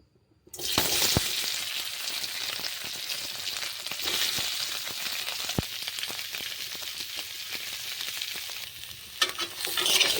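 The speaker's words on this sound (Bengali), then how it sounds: "আমি আলুর দমের আলুগুলো ভাজবো, তেল দিয়ে দিচ্ছি" Potatoes frying in oil in a pan for aloo dum, a loud continuous sizzle that starts abruptly after a brief silence and carries on close up with occasional sharp clicks of stirring, no voices.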